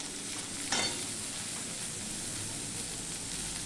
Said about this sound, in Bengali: এই আলু দিয়ে দিচ্ছি এই আলুর সাথে ভাজা হয়ে যাবে আলুটাও আমি দিয়ে দিলাম